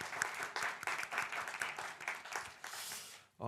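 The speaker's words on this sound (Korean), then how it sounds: "우리 격려의 박수, 감사의 박수 보내겠습니다" Congregation at a church Sunday worship service applauding in thanks and encouragement, a dense wash of many hands clapping that carries on steadily before tapering off at the end.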